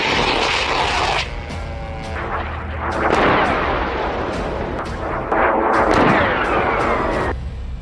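Russian artillery cannons fire in several heavy, booming blasts over about eight seconds, each loud report rolling into a long rumbling echo, with no talking.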